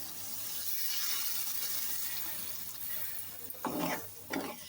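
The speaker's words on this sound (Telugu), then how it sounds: "తగినంత వాటర్ పోసుకుందాం" Water is poured into a chili-spiced eggplant and dried shrimp curry in a pan, a steady splashing hiss that fades, followed by a couple of clattering stirs.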